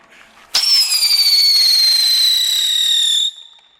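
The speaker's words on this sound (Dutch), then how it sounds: "Nee, gevaarlijk vuurwerk." A firework ignites with a sharp crack, then a loud, steady high-pitched whistling shriek holds for nearly three seconds before cutting off abruptly.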